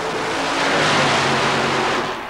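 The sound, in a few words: fuel-injected nitrous-injected stretch wheelbase Jeep mud racer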